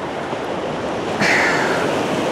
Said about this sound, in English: just the sound of the waves crashing in